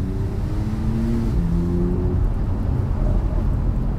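A car engine revs and accelerates up close, a rising harmonic whine over steady low rumble and road noise.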